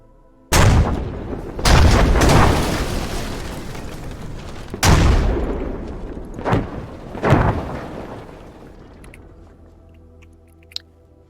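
Explosions and gunfire in a war video game: a series of five or six heavy booming blasts in quick succession, each with a long rumbling decay. The last blast fades into near silence with a small pop at the end.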